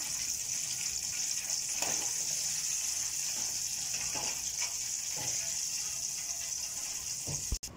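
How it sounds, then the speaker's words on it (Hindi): A handful of curry leaves frying in hot oil for chudwa, a steady loud hissing sizzle with scattered crackles and pops, close and continuous, ending in a sharp knock. "एक मुट्ठी करी लीव्स है ये कर निकालेंगे ये ज़्यादा फ्राई होने नहीं देंगे"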